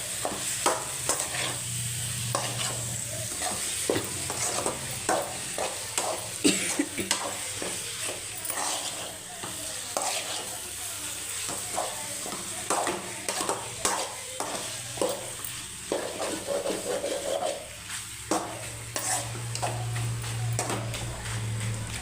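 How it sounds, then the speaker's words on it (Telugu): Masala-coated pieces are stirred and fried in a pan, a steady sizzle running throughout under repeated scraping and clinking strokes of a spoon against the pan. "మసాలా ముక్కలు బాగా పట్టేటట్టుగా కలబెట్టేస్తున్నాను"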